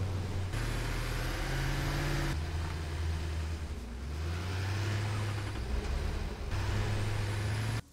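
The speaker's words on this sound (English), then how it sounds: "Right now I've got a truck set up transporting coal back and forth" Truck hauling coal back and forth in a building video game, a loud, steady engine drone that shifts in pitch as it revs and slows, with no talking.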